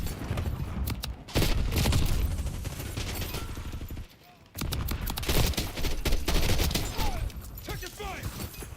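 Video game gunfire, dense bursts of rapid shots nearly nonstop and loud, with a brief lull midway before the firing resumes, while a player talks over it.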